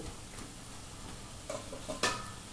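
Broad bean curry being stir-fried in a pan, a low steady sizzle with soft scraping stirs and a brief louder clatter of the spoon near the end.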